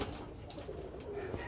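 Birmingham Roller pigeons cooing softly in a loft, low murmuring coos running steadily throughout amid faint background rustle, with no talk.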